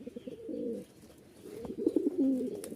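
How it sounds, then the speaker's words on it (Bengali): Pigeons, giribaj and fancy breeds, coo softly and close by in two short bursts of throaty warbling, with a brief pause between them and no voices. "প্রতিটা কবুতরের ডাক দেখলেই মন ভরে যাবে"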